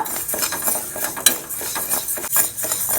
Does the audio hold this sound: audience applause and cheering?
no